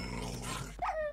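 A dog growling in a video game, a short low rumble that rises into a brief whining yelp at the end, close and fairly loud over a steady game background.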